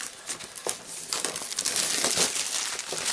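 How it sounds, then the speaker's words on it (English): Cellophane wrap being pulled off a Zombicide board game box, close crinkling and rustling that thickens into a continuous crackle over about three seconds, with no talking. "Okay, cellophane off."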